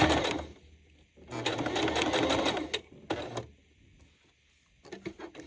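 A sewing machine stitches a fabric dish drying mat, close and loud in several rapid whirring bursts separated by short pauses.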